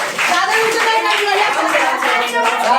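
Continuous crowd applause at a Saraswati Puja award ceremony, dense hand clapping sustained throughout at a steady loud level with children's voices mixed into the din.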